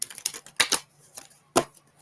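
Oracle cards shuffled by hand, a quick series of soft crisp riffling slaps and clicks in irregular bursts, close and fairly quiet, with no talking.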